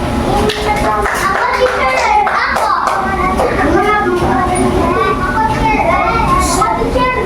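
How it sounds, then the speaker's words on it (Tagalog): Young pupils clap for a classmate after a correct answer in an elementary lesson, a lively scatter of hand claps mixed with children's chatter and excited voices throughout the room. "Bigyan natin ng palakpak si Ellen."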